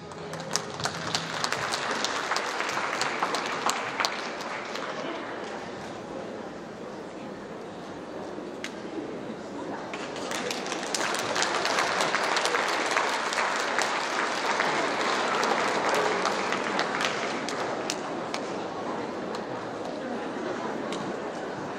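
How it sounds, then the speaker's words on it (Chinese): Sustained audience applause fills a hall at a Chinese New Year gala show in Houston, steady and loud for the whole stretch, swelling again in the second half as guests are welcomed. "首先，让我们以热烈的掌声，有请今晚到场的贵宾。"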